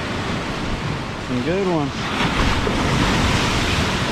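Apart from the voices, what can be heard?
ocean waves crashing against concrete pier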